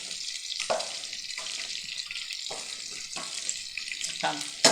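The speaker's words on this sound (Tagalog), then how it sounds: "sa una lang magtatalsik yung mantika paglagay mo" Chicken skin frying in hot oil for chicharon, a steady crackling sizzle with occasional sharper pops and splatters as it is stirred, close and fairly quiet.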